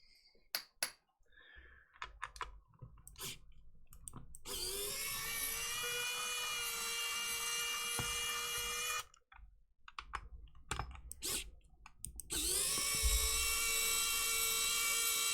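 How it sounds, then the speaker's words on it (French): An electric screwdriver used while taking apart a Game Boy Color whines in two sustained high-pitched runs of several seconds each, close and loud, separated by clicks and handling noise of the small plastic console. "déjà tout tournevis électrique"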